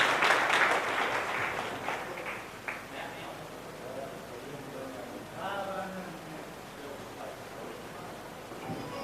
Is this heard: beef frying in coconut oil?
no